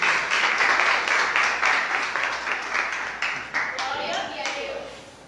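A church congregation claps during a worship service, a broad wash of applause that swells and fades in waves, with a voice talking faintly underneath.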